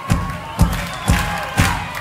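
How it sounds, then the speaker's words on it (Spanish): Concert crowd at a live show in Mendoza clapping along, four loud, evenly spaced claps in a steady beat over a roomy crowd wash. "Con las palmas, mirá."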